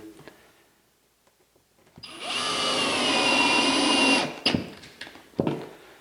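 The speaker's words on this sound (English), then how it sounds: "you can see I'm using a drill today" A power drill drives a fastener into a faux stone wall panel during installation, one steady whirring burst of about two seconds, close and fairly loud, followed by a few short knocks and clatters.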